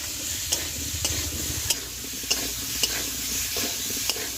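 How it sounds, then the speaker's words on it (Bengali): Spice paste with turmeric and chilli powder sizzles with potato and pumpkin in a pan, a soft steady frying hiss punctuated by regular spatula taps and scrapes, close and without talk. "মশলাটাকে আলু আর কুমড়োর সাথে ভালো করে কষিয়ে নিয়েছি।"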